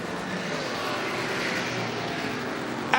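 A Ford 5-litre V8 race car fed by twin-choke Weber carburetors roars steadily at a historic Goodwood Revival RAC TT race, a loud sustained engine drone with a sharp burst right at the end.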